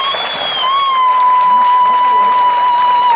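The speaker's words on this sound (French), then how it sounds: "Je voudrais que vous fassiez une ovation particulière pour lui." An audience gives a loud, sustained ovation, dense clapping and crowd noise building over three seconds, with a steady feedback-like tone ringing through the hall sound system.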